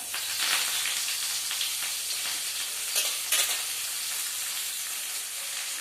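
Mint is stirred into food frying in a pan, giving a steady close sizzle with scraping stir strokes throughout and a few louder bursts partway through.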